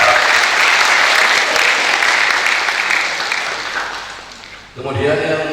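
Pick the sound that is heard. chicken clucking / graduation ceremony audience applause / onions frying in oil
graduation ceremony audience applause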